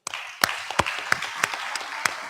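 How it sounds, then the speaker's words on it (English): Applause for conference panelists at a business session: a few distinct claps ring out over a steady room hum, fairly faint and sparse. "please give a big applause for all the panelists"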